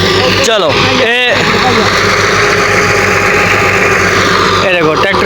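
A tractor engine runs loudly and steadily in a paddy field where rice seedlings are being pulled, its rumble filling the whole clip while people talk over it.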